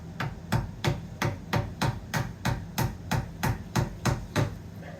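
A chisel is struck repeatedly while cutting a wooden door knob mortise, about fourteen sharp, evenly spaced knocks at a brisk, steady rhythm, close and clear with no talk.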